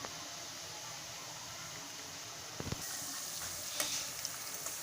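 Tomato chakli fry in moderately hot oil on a low setting, producing a constant close hiss with a couple of brief clicks and knocks partway through.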